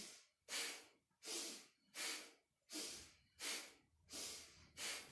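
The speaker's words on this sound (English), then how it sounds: "Let this be a sniff and a snort, so powerful breath." Powerful rhythmic sniffing and snorting breaths during a Kundalini yoga exercise, seven sharp forceful nasal bursts at a steady pace of roughly one every 0.7 seconds, close and clear with no talking.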